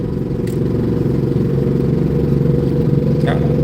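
A Dodge service truck with a failing rear axle gives a loud, steady whine while driving, a dense mechanical drone heard up close inside the cab, without speech.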